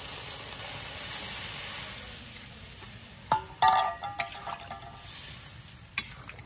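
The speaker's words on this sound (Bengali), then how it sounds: "মাংসটা খুব ভালোভাবে কষে নিচ্ছে" Meat sizzles and fries in a pan, with a steady hiss that gives way to several sharp clinks and scrapes of a utensil stirring against the metal.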